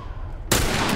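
Gunfire in The Last of Us bursts in sharply halfway through, a loud broadband crack that rings on as a dense, sustained blast to the end of the moment.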